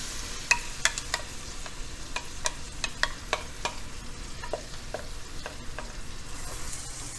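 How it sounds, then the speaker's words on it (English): Vegetables sauté in hot butter over medium heat, crackling with a soft steady sizzle. A spoon clicks and taps against the pan at irregular intervals, close and moderately loud, with no voices. "we're going to saute this on a medium heat until the everything's nice and wilted"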